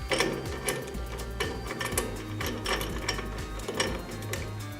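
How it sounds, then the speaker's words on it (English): A Jacob's chuck on a heavy-duty bench morticer is tightened, giving faint, close mechanical ticks and clicking ratchet-like sounds in a quick irregular rhythm over a low hum. "The Jacob's chuck can then be done up tight"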